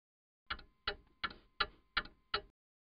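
Six evenly spaced, crisp clock ticks heard close and alone against silence, each a short sharp click with a quick decay.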